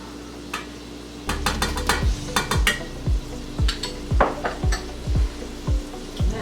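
Rice and shrimp fry in butter in a pan, with a steady sizzle under repeated scraping stirs and regular utensil knocks against the pan, close and fairly loud.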